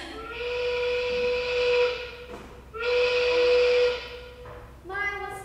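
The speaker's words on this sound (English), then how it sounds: "The new whistle at the shoe polish factory." The new factory whistle at a shoe polish factory gives three loud, steady, hissing steam-whistle blasts, two long ones of about two seconds each and a short third one cut off at the end.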